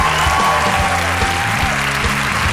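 Audience applause at a Spanish comedy show for the performers, a dense, steady wash of clapping that stays loud and continuous throughout with no clear voices.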